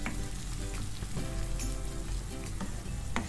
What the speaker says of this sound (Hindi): हम इसमें 2 टेबलस्पून जिंजर गार्लिक पेस्ट डाल देंगे। एक मिनट के लिए इसे भून लेंगे